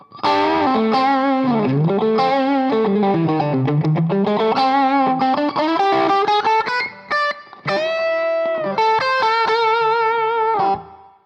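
An electric guitar with single-coil pickups plays a bending, sustained classic rock lead line with mild overdrive and a bright, twangy tone, loud and continuous with brief pauses.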